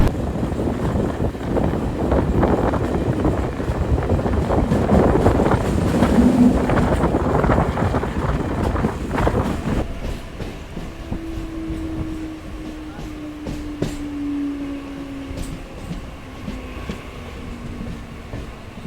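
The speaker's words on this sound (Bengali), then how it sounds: "ছেড়ে দিল আমাদের ট্রেনটি বালিখল রেলওয়ে স্টেশন থেকে" A Sealdah–Dankuni local train pulling out of Balikhal station rumbles steadily with wind buffeting the microphone, then the roar eases into a quieter rolling hum with a faint drawn-out squeal.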